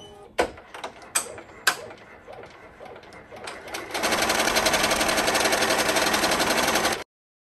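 An embroidery machine stitches the tack-down layer of an in-the-hoop pot holder or trivet: a few sharp clicks come first, then a dense, rapid, steady stitching chatter runs for about three seconds before stopping abruptly.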